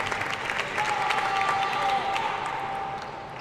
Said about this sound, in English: You could see fans on screen cheering India.